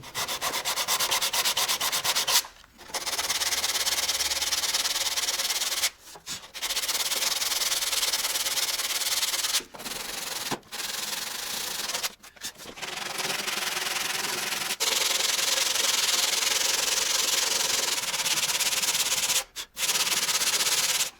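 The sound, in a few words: sanding plastic on a Volvo FH12 truck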